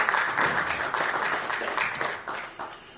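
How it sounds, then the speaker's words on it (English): An audience at a hospital authority press conference gives a round of applause, a dense burst of clapping that is strongest at first and then gradually thins out over a few seconds. "and it's just another round of applause."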